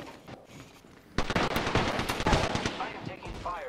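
Gunfire in an online shooter video game, a dense burst of rapid automatic shots that erupts suddenly and keeps crackling, loud and near, with faint voices in the mix.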